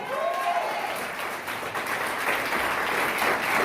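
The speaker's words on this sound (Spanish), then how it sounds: "den un aplauso al Señor." Church congregation applauding during a Spanish-language sermon, a steady wash of clapping that holds at even loudness throughout, with a faint sliding tone near the start.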